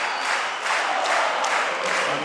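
Basketball arena crowd at a FIBA AmeriCup game between Argentina and Venezuela, a steady broadband wash of applause and cheering that swells and dips slightly, filling the space without a break.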